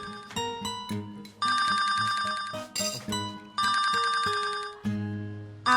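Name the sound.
mobile phone ringing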